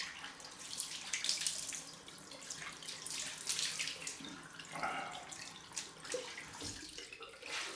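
A water tap runs into a sink while someone rinses their face after a shave, a quiet, steady splashing stream that shifts slightly as hands move through the water.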